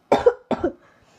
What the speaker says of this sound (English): try and mind my cough and sneezes